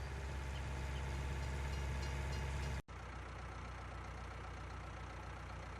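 Train running in the Farming Simulator 19 video game, a steady loud rumble of engine and rail noise that cuts out briefly midway and then resumes, with no talk.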